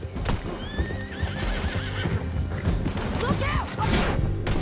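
Horses in Red Dead Redemption 2 neigh with rising, wavering whinnies over a rapid clip-clop of hooves during a tense chase, mixed with game music and scuffling impacts, loud and close throughout.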